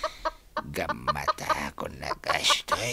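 Chickens cluck in short repeated bursts, close and fairly loud, mixed with someone speaking Ilocano over them during a rural chicken-catching scene.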